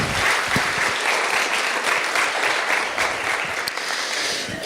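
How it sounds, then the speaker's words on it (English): A dense, even round of applause fills a skeptics convention hall, many hands clapping steadily and loudly from start to finish with no speech over it. "I just want to give them a big hand, big round of applause"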